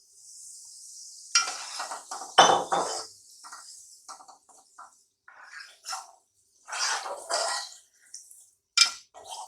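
Semolina tipped into hot ghee in a pan for suji halwa, with clinking utensil and pan scrapes, bursts of stirring and a light sizzle coming and going in uneven spurts, fairly close.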